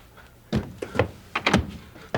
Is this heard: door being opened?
yes